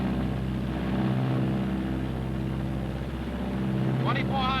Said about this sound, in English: Throttling back now to normal rated power, which is 38 inches of manifold pressure.